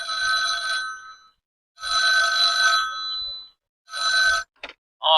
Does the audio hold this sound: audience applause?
no